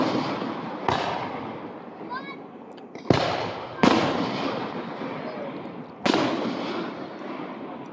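Outdoor firework show with a series of loud rocket bursts, four sharp booms spaced a second or two apart, each trailing off into crackle and rumble, close and powerful.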